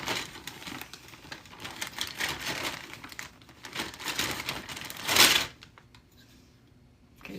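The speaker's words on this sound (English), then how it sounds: "we're going to add to this box 2 pounds of gold finger cards" Gold finger circuit cards clatter and rattle in bursts as they are dumped into a box of scrap, with a sharp, bright crash near the end before things go quiet.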